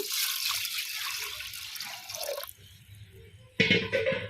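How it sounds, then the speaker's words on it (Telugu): Water pours and splashes into a pot of toor dal lentils, stops for a moment, then starts pouring again with a louder gush. "కందిపప్పు వేసేసి ఇలా వాటర్ పోస్తున్నా"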